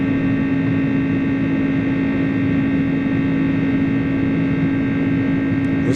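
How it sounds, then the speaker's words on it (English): Steady, loud jet engine drone with a strong tonal hum from the Pratt & Whitney engines of the iniBuilds A300 in Microsoft Flight Simulator, continuous and even throughout, with no talking. "Those engines, holy, sounds good"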